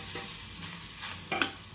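Cooked rice drops into roasted masala in a hot pan: a brief, soft sizzle with a few light stirring scrapes, the loudest one near the end.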